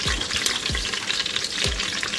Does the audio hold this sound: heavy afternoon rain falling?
no